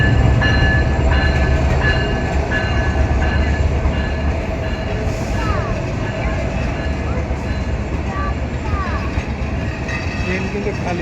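Lalmoni Express passenger train pulling into a station, a steady loud low rumble of rolling wagons and wheels running throughout, with faint crowd voices in the background.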